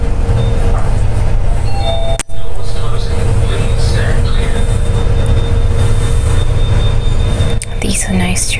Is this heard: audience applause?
no